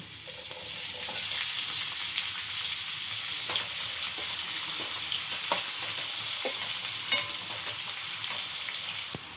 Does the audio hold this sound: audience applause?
no